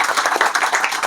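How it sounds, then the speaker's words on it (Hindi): A short spell of brisk group clapping rings out for discussion groups at a gathering on reservation, close and steady with no voices over it. "हमारे सारे ग्रुपों के लिए आप तालियां बजाएं"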